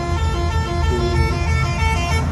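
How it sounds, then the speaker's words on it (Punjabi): A vehicle horn blares continuously and loudly for the whole stretch, steady and unbroken, with road traffic rumbling underneath. "ਮਾਰੀ ਜਾਂਦਾ ਹਾਰਨ"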